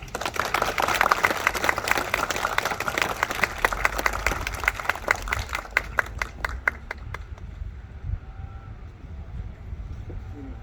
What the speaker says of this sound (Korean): 이 어른을 손뼉으로 맞아 주시겠습니까?